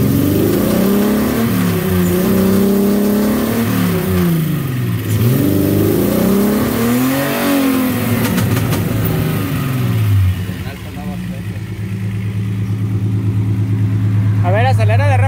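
A swapped engine, a 3.2 Porsche unit in an R32, revs up and down repeatedly in loud, close sweeps, then drops to a steady idle. People talk over the engine.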